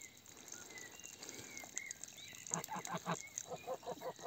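Geese honk in a rapid series of nasal calls, fairly quiet, following softer bird chatter outdoors, as geese and chickens drink from a cistern spout.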